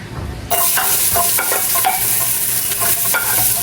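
Garlic, onion and ginger hit hot oil in a heated pressure cooker, bursting into a loud, steady sizzle with rhythmic stirring scrapes from a utensil, close up and without talk.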